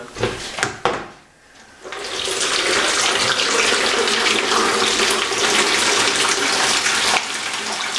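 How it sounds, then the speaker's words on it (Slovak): Warm water heated to about 65 degrees gushes steadily into an empty container holding a bottle with a stretched balloon, a loud continuous pour after a few brief knocks and a short pause. "oblejeme približne s vodou ohriatou na 65 stupňov"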